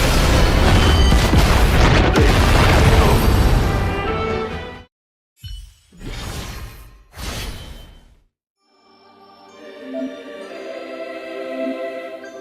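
A loud, dense explosion in the video game Honkai Star Rail roars for several seconds, followed by short booming bursts with silent gaps, then a quieter tonal ringing.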